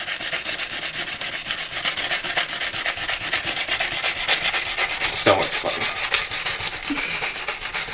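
Hand sanding of curb rash on a 26x14 car wheel, a continuous rhythmic rubbing scrape with rapid back-and-forth strokes, close and fairly loud, without talk.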